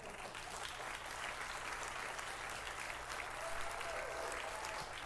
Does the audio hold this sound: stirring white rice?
no